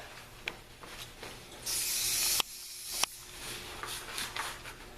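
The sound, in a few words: contact cleaner spray on motorcycle handlebar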